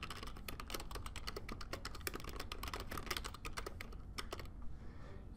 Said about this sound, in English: I'll just make up a password here.